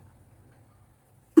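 During a sneezing challenge, a single short, sharp cough bursts out suddenly at the very end after a stretch of near silence.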